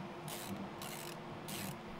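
M3x8 screws are driven into a mod part on a Bambu Lab P1S 3D printer, heard as quiet, evenly spaced ratcheting rasps that repeat about three times over a steady background hum.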